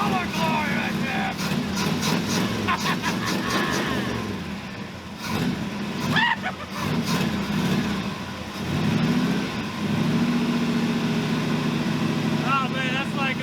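A Gambler 500 rally car's roughly 100-horsepower engine idles while warming up, a low rumbling drone close by with occasional revs, with people talking over it.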